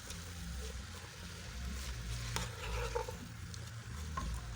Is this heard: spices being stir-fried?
yes